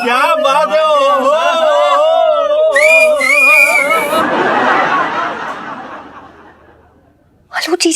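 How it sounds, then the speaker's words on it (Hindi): Out in a street, several people give loud wolf whistles and rising whistle calls, mixed with chuckling and chatter, followed by a fading noisy wash and a brief sharp burst at the end. "पता नहीं किस पे सीटियां मार रहे हैं वो लोग"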